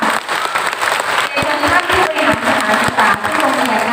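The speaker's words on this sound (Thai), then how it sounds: "ขอเสียงปรบมือดังๆห้ยค่ะ" Loud, close applause from a crowd at a children's day event in a Thai municipality, thick continuous clapping with a few sharp individual claps standing out.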